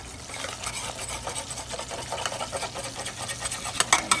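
A utensil scraping thick curry off a pan in a home Thai kitchen, giving a quiet, steady run of rough scraping and rubbing strokes that gets a little louder near the end, with no talking.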